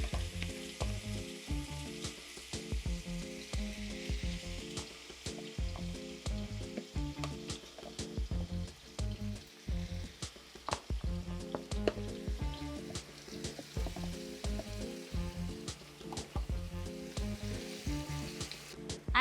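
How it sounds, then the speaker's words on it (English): Chicken pieces sautéing in hot oil in a pot over medium heat for chicken chop suey. A dense, continuous sizzle runs throughout, with frequent stirring scrapes and clicks of a utensil in a steady, busy rhythm. "Go ahead and start sauteing your meat."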